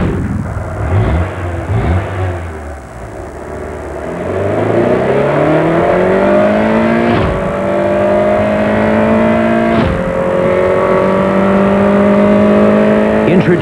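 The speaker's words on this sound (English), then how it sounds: "Introducing the 190 horsepower Prelude VTEC. It's very quick" A 190-horsepower Honda Prelude VTEC sports car engine revs and accelerates through rising gear pulls, its steady whine climbing in pitch with brief shifts in between, loud and close with no talking.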